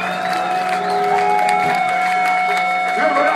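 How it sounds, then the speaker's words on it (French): An audience at a live metal concert in Millery, France, applauds and cheers in a sustained, steady wash of clapping and crowd noise, with some voices mixed in. "On vous demande de l'applaudir"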